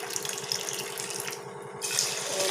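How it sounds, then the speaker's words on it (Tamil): Water pours steadily from a tumbler onto washed, soaked rice for Tamil sweet pongal, a close, continuous splashing stream that briefly thins before swelling again. "இப்போ நம்ம அரிசி எடுத்த அதே டம்ளரில் 4 டம்ளர் தண்ணி சேர்த்திக்கலாம்"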